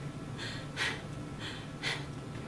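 A person breathes in and out, with two clear, airy breath bursts and softer breaths between them, close and quiet, with no talking.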